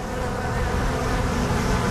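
A dense swarm of honeybees buzzes loudly and continuously close up around hive frames, a thick unbroken drone with no voices.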